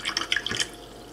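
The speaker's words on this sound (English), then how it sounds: "Now you can enjoy clean drinking water straight from the faucet." Water flowing from a home drinking water faucet fed by a LINX 160 reverse osmosis system, a short close splashing trickle with bright dripping spatters, heard alone.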